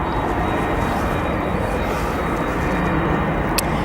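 Aero Union cargo aircraft taxiing toward the cargo bay on the east side of O'Hare International Airport, a steady, dense engine rumble and whine that holds level throughout, with a brief faint click near the end.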